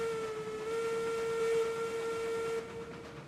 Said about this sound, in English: Yeah, I can totally hear your whistle.